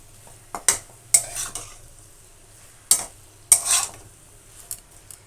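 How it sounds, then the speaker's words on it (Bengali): Spoon stirring cabbage and potato curry with garam masala powder in a pan, heard as a few separate scraping strokes with short gaps between them and a faint low hum underneath. "দিয়ে একটু ভালো করে নেড়ে নিচ্ছি"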